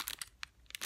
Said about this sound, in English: I grabbed a couple of these mailing bubble envelopes